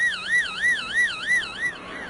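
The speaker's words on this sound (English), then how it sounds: "somewhere down here around 3 to 4 hertz, which sounds like this" An amplified brainwave signal in the delta band, around 3 to 4 hertz, turned into sound. It is a steady electronic tone that wobbles up and down in pitch about three times a second, like a slow siren warble, clear and alone.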